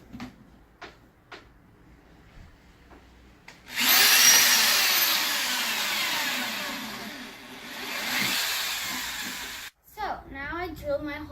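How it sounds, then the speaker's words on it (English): A power drill bores holes into a plastic indoor compost container for worms, a loud sustained whirring burst of about six seconds with faint handling knocks before and rustling after. "So now I drilled my holes all along here, and I'm going to put it in my bigger container."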